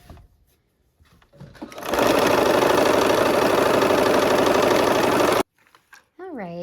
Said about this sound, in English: So I'm gonna connect these two reds, or the red and this green triangle. Okay, so we'll go ahead and sew that.